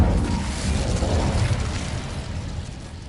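In Hogwarts Legacy, an Incendio fire spell flares in a cave, a broad roaring burst of flame that swells then slowly fades, loud and close with no voices over it.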